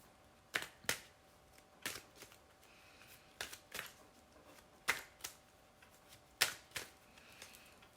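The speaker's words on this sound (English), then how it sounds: "So I'm gonna shuffle the cards a little bit more." Tarot cards are shuffled in short bursts, about a dozen quick riffling flicks with brief pauses between, close and fairly soft, with no voices.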